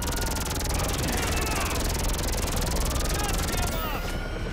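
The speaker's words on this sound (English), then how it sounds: "Well, at least I got the helicopter." A helicopter in Grand Theft Auto Online gives a loud, continuous rotor whir with rapid blade chop. It stays steady and close throughout, and the high end cuts off near the end.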